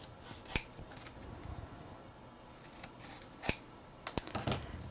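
Scissors snipping paper for a scrapbooking rose pocket, with three crisp close cuts spaced apart and a quick cluster near the end over quiet room tone.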